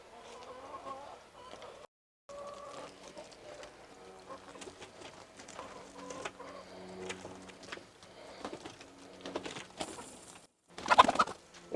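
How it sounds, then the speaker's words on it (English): Hens cluck and murmur softly on and off, with scattered rustling and a louder flurry of squawks near the end. "get all these hens in the coop"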